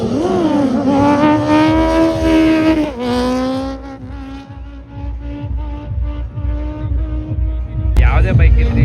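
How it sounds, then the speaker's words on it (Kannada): A vehicle at a drag meet revs its engine hard and close, holding a loud, rising, sustained roar that eases and then surges again near the end. "ಮತ್ತೆ ಇನ್ನೊಂದು ಗಾಡಿ ಬಂತು."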